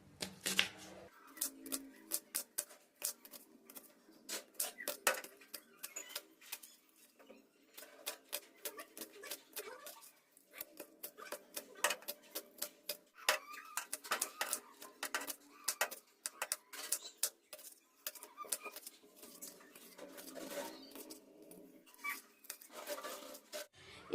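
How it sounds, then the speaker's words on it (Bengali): A knife thinly slices spring onion bulbs on a cutting board with rapid, steady, close tapping that continues throughout without pause. "পেঁয়াজের গোড়া খুব পাতলা পাতলা করে কেটে নিতে হবে।"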